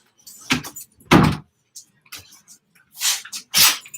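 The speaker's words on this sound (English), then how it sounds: "Let me close my door so these dogs don't." A door swings and clunks shut indoors while dogs are nearby, with a few sharp bumps and rattles spaced across a few seconds in a close, quiet room.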